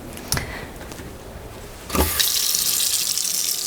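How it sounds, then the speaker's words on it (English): Tap water runs into a sink while tomatoes are rinsed, a brief splash early, then the faucet opens into a steady, close, hissing stream that continues to the end. "So make sure to clean your tomatoes off."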